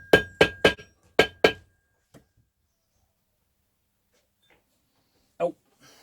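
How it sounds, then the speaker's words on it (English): A hammer bashing a stuck flywheel on a WW2 Zundapp KS600 motorcycle engine: five sharp metallic clanks in quick succession, then a lone faint tap and one more knock after a pause. "I'm just going to give it a little bash now and see if it will come off or not"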